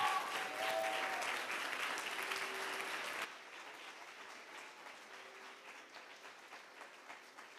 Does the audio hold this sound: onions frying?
no